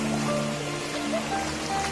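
Flood water in Kokrajhar, Assam, rushing and hissing in a steady broadband wash, with faint tonal sounds layered over the flow.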